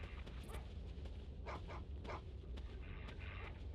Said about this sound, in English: hear a lot of barking around us